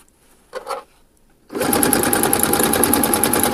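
A sewing machine stitches elastic onto swimsuit fabric, running in a fast, steady, close-up whir after a brief handling noise at the start, with no talking.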